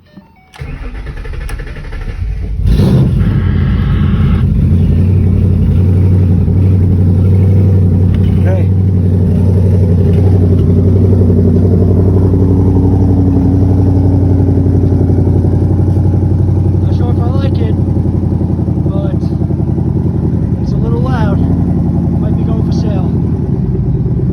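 A 2012 Ford Mustang GT V8 starts up and then holds a steady, loud engine drone with slight rises in pitch, heard up close and continuous for the whole stretch.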